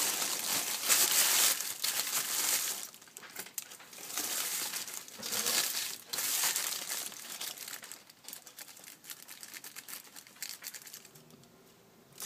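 Gift wrap paper being handled and crinkled during a cosplay craft project, with close, uneven bursts of crackling and rustling that come and go, louder early on and quieter toward the end, no talking.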